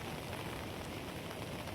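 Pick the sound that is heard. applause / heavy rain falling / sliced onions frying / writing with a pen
heavy rain falling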